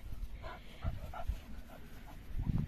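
A dog pants in short, soft breaths close by, with faint whimpery sounds mixed in and low rustling underneath.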